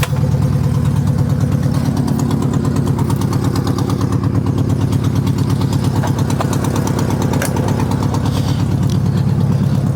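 A 1973 Volkswagen Beetle engine running with no muffler, a loud, raw, steady rumbling idle with a fast pulsing beat that continues without pause, no voices.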